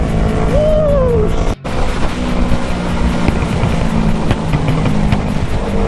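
A 2020 Kawasaki Z650 motorcycle with a Hindle full performance exhaust, flashed and tuned, roars loudly and steadily at close range with heavy wind buffeting, a short gear-change dip partway through, then continuous throttle.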